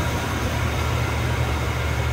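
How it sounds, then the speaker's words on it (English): A 1991 Cadillac Brougham sedan's engine idles steadily, giving a continuous low, even rumble up close with no voices. "Nice sound and nice running car."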